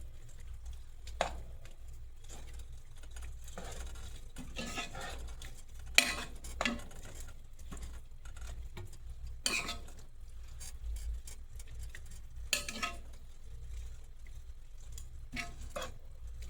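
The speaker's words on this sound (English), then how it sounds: "Get it a good old stir." A spoon stirs vegan lentil soup with butternut squash in a pot, giving quiet scraping strokes and occasional sharp clinks against the pot, irregular and close over a low background hum.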